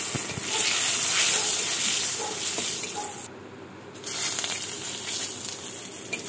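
Oil sizzles and hisses loudly as dry chilies and bay leaf fry in a pan, with a brief drop in the crackle midway before it resumes.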